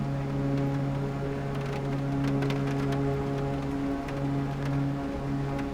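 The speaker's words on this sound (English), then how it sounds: "that is the sound of ice hitting the aircraft" A steady droning propeller aircraft engine hum runs throughout a flight simulator while scattered sharp ticks and patters strike like hail as ice hits the aircraft.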